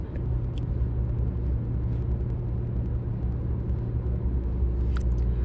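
A car engine idles steadily while warming up on a cold winter morning, producing a continuous low rumble with a faint hum, close and unbroken, with no talk.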